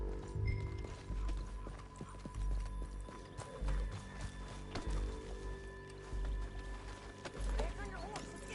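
Rhythmic hoofbeats of a galloping horse in the video game Red Dead Redemption 2, steady and fairly close, with a few whinnies and voices talking over the running.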